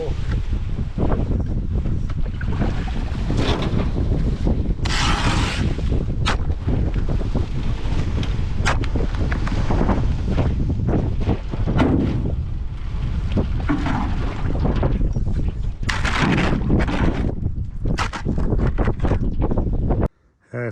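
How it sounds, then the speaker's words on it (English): Wind roars steadily across an open, icy stretch of water while someone paddles a small boat outdoors, a loud continuous buffeting that fills the whole stretch before cutting off at the end. "I finally got out of that wind."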